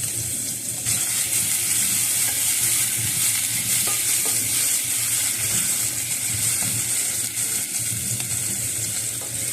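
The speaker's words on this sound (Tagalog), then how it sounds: "Nag-init na ako ng mantika guys. Lagay na natin ang sibuyas." Onion frying in hot oil for ginataang monggo, giving a loud, steady, close sizzle with a constant hiss and light stirring noise, and no talking.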